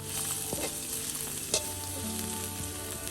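Shiitake mushrooms fry in hot oil with a soft, steady sizzle and crackle, broken by a few faint clinks and stirring sounds, heard quietly and alone.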